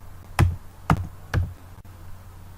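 Three separate taps on a computer keyboard, evenly spaced and close, keying in a short command before a quiet pause.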